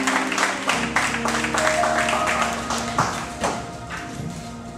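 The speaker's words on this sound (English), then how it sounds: "Won't y'all give the Lord another hand clap of praise for his" A church congregation claps in praise during a Sunday outreach service, the claps coming as sharp, close taps in a loose rhythm. Sustained tones, likely from organ or keyboard, hold underneath, and a brief voice surfaces partway through.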